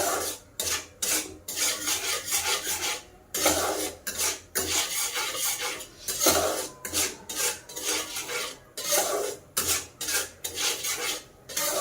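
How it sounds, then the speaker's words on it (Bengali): Semolina being stirred and dry-roasted in a hot wok for kalojam sweets, giving repeated scraping, rasping strokes of a spatula against the metal pan in an uneven rhythm, close and fairly loud with no talking. "সুজিটা দিয়ে দিলাম, দিয়ে একটু ভাজা ভাজা মতো করে নেব হালকা"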